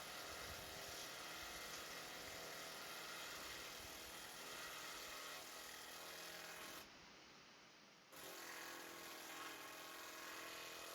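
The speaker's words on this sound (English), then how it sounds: "The dreadful noise was the impact driver driving those big screws" Impact driver sinking big lag bolts into the foundation of a workshop shed, a loud, continuous grinding hammer-rattle filling the whole stretch, with a brief dip in intensity before resuming.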